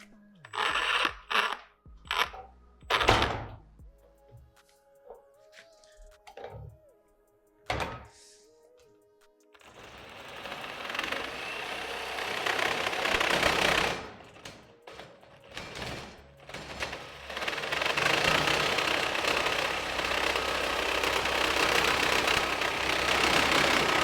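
A Milwaukee M18 FSZ cordless reciprocating saw cuts through 6 mm material with a loud, sustained rasping roar that runs about fourteen seconds, following several sharp knocks and clicks during setup.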